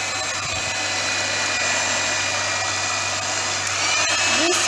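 An electric whisk whirs steadily through yogurt and chocolate cake batter, a continuous motor drone with a constant high whine that holds without pause from start to finish.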